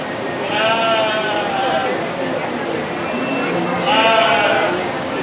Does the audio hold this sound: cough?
no